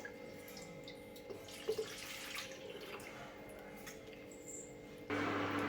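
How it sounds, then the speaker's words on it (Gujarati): Water running steadily into a metal dhokla steamer pot, a continuous splashing stream that grows louder and fuller near the end. "ઢોકળિયામાં બે પ્યાલા જેટલું પાણી એડ કરીશું"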